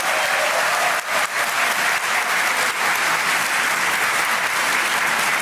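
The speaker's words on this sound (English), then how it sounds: "can I hear a round of applause for all of us here?" Applause from a large audience of young people at an International Youth Day gathering, dense continuous clapping that stays loud and even throughout, filling the hall without any talk over it.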